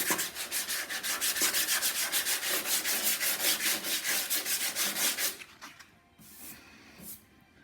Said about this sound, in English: As I run this sandpaper across this, nothing happens.